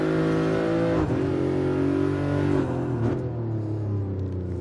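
A Nissan GT-R race car in Gran Turismo Sport roars loudly and continuously, its engine pitch climbing and dropping through revs and gear changes, with no voice over it.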